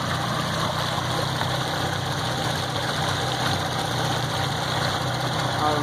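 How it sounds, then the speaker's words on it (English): Yamaha V6 outboard fuel-injected boat engine idling in forward gear, a steady, close mechanical drone with an even hum and no change in pace, no talking over it. "Now I just went into idle and forward, seeing how it's idling."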